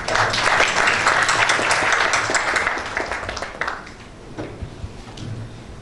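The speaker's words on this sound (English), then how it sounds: "Again, a big round of applause for" Conference audience giving a round of applause at a national research conference in Bangladesh, loud dense clapping that swells early then gradually thins and fades into scattered claps.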